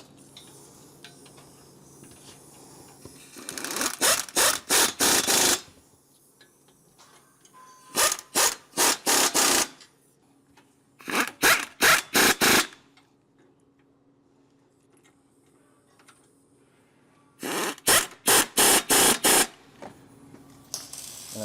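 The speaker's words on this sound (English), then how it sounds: "Then we will proceed to tighten up the 2 bolts coming down through the side plate" A 3/4 socket wrench tightens the two side-plate bolts of a front hitch on a Mercedes Sprinter van, with four separate bursts of rapid ratcheting clicks spaced by quiet pauses.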